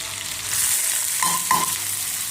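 Cumin and green chillies hit hot oil with popped mustard seeds, giving a steady close sizzle and crackle, with a couple of sharp clinks midway as a utensil touches the pan.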